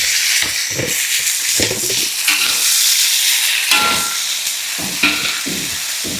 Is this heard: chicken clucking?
no